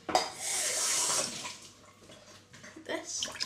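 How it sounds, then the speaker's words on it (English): Cold water poured into a bowl of dissolved raspberry jelly mixture, a close hissing gush that fades after a second or two, followed by a brief spoken remark. "now we're going to add a pint of cold water."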